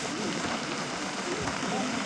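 Heavy rain falls during a tiger-spotting safari drive, a dense, steady broadband hiss with crackly patter that stays constant and fairly loud throughout, with no voices over it.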